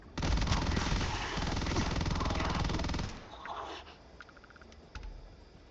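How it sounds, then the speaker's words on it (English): Rapid continuous firing of acid guns in the game Gorefield, a loud dense buzzing burst lasting about three seconds, followed by quieter splattering and a few faint clicks. "Let's kill a few more with acid guns."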